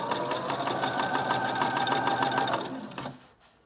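A home sewing machine threaded with green thread stitches steadily at close range, its rapid mechanical chatter holding an even rhythm for about three seconds before slowing and stopping.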